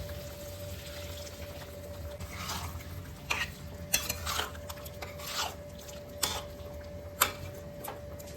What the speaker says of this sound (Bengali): একটু নাড়াচাড়া করে এই মিক্সির বাটিটা ধোয়া জলটাও অ্যাড করে দিচ্ছি